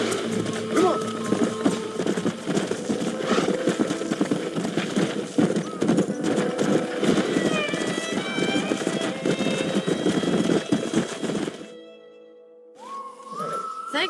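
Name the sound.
horse neighing and hooves in video game Red Dead Redemption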